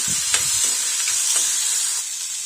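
Ingredients with salt and tamarind sauté in a hot pan, producing a loud, steady sizzle and hiss broken by a few soft stirring scrapes near the start, with no voices.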